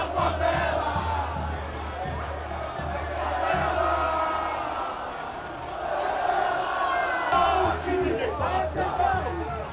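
Palmeiras football fans chanting in a stadium during a Corinthians vs Palmeiras 2015 semifinal, a large distant crowd roaring in sustained waves with a low steady hum beneath.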